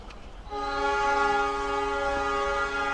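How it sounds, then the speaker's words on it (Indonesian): Horn of the Sri Tanjung passenger train departing Lempuyangan station in Yogyakarta, one long, loud, steady multi-tone blast sounding close by after a brief moment of ambient noise. "kereta api Sri Tanjung diberangkatkan dari stasiun Lempuyangan pada pukul 7:21 menit"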